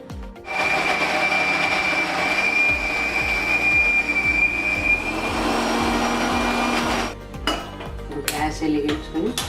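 A kitchen mixer grinder whirs loudly and steadily, blending soaked, peeled almonds with a cup of milk into a smooth paste, running about seven seconds before cutting off, followed by a few clinks of the jar.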